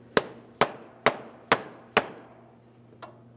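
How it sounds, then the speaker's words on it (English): Rubber mallet tapping around the front CV axle nut of a 2003-2008 Toyota Matrix: five evenly spaced, close, firm knocks, followed by a fainter sixth tap after a short pause. "lightly tap on that axle nut area with a rubber mallet"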